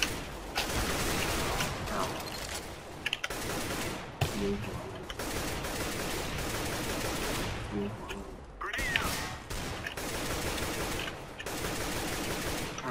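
AK-47 rifle fire in CS:GO, rapid loud bursts of automatic shots in several volleys separated by short pauses, with someone talking over parts of it.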